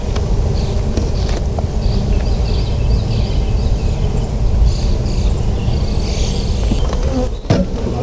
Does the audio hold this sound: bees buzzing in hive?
yes